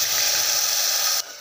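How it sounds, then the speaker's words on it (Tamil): Ground paste poured into hot oil with whole spices for a paneer kurma gives a loud, steady sizzling hiss that fills most of the moment, then abruptly drops to a quieter simmer near the end. "இப்போ அரைச்சி வச்ச பேஸ்ட்டு இதில் ஊற்றிக்கலாம்."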